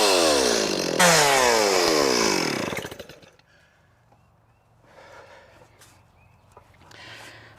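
A chainsaw revs and cuts into a tree for about three seconds, loud and close with rising and falling engine pitch, then stops, leaving quiet outdoor ambience with faint rustles.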